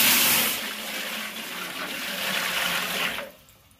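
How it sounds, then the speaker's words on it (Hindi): Water pours steadily into a pot of 5 kg desi chicken on a village stove, a loud rushing splash that stops abruptly near the end, with no voices. "ये देखिए जी, मैंने पानी डाल दिया देसी में"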